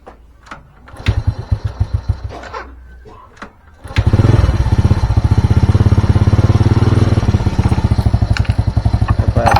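A Honda Supra motorcycle with heavy fuel use and a plug that keeps fouling black is cranked with a few uneven thumps, then catches and settles into a loud, steady, close idle chatter.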